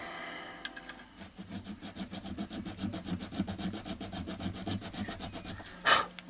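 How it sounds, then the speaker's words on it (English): A file working a guitar nut slot on a Westfield E4500, giving close, rhythmic back-and-forth rasping strokes at an even pace, ending with a brief sharper knock. "you could do the whole of your complete nut slot with this file"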